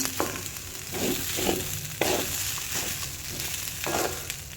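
Spices with turmeric fry in hot oil for khichuri, a steady sizzle broken by repeated scraping stirs about every half second.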